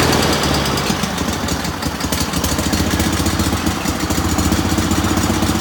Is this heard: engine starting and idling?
yes